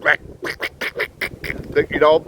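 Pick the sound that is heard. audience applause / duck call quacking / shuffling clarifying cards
duck call quacking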